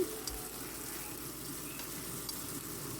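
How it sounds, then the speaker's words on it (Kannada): Sliced onion fries in a pan with a soft, steady sizzle and crackle, fairly faint, continuous and unbroken by speech. "ಒಂದು ಈರುಳ್ಳಿಯನ್ನು ಹಾಕೋ ಹಾಕೊಂಡಿನಿ ಹಾಕಿಬಿಟ್ಟು ಅದನ್ನು ಫ್ರೈ ಮಾಡ್ಕೊಳತ್ತೀನಿ"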